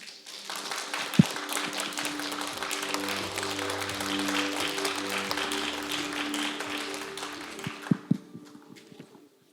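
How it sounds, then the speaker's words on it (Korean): An audience claps to welcome a session moderator and panelists onto the stage at a peace forum. The steady, dense applause lasts several seconds over a sustained musical tone, with a few sharp louder claps near the start and end. "힘찬 박수 부탁드립니다."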